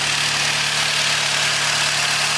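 A Seat Leon Cupra with a tuned 400 hp engine idles under the open hood, a loud, steady, close-up mechanical hum with a constant low drone and no break.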